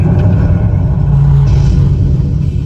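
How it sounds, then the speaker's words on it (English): Simulated rocket main engine start on a Disney World ride: a steady, loud, deep rumble with a constant low drone that holds for the whole stretch, with no talking. "We have main engine start."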